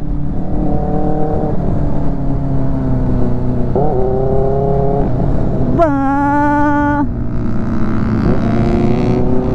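Motorcycle exhaust on a group Sunday ride, a loud, close drone that rises and falls with revs, with several swelling rev pulls and one sharp high-revving burst.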